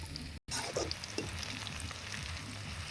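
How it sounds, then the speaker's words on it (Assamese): Chicken masala sizzles and fries steadily in a hot pan, a continuous close crackle that stays loud throughout, broken by one very brief dropout near the start. "চিকেন মছলাকেইটা নবৌ ফ্ৰাই কৰি আছে"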